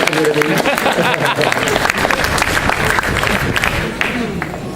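Applause breaks out at a 2014 baccalaureate medal ceremony in Fontainebleau as the audience claps for a student's brother, a steady dense patter that holds throughout with speech mixed in.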